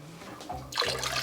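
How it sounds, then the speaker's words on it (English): Ice cold water is poured into a turkey brine, a short burst of splashing liquid that swells loud and close toward the end, with a quieter trickle before it. "we're gonna come in with 2 quarts of ice cold water"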